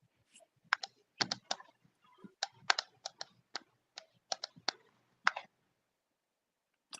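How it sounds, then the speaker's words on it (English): Fast, forceful keystrokes clatter on a computer keyboard in uneven bursts of sharp clicks, close and fairly quiet, with short pauses between flurries and no talking. "I'm hearing what it sounds like someone's typing, and it's like rage typing"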